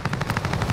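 Automatic gunfire in Call of Duty Warzone: a fast, even burst of about ten rapid shots within under a second, loud and close, with no talking.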